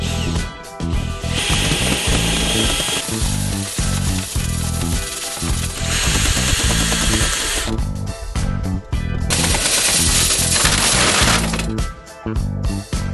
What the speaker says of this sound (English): We got our cleaner rods with our plastic brush thingy, and it just goes right into the drill.